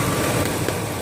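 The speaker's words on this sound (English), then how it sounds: "we'll kind of listen to the engine. It sounds really smooth now" A Ford 4.6 V8 idles steadily and evenly with freshly replaced coil-on-plug ignition coils, after a rough idle from random misfiring. It is a continuous close-up mechanical hum with no talk.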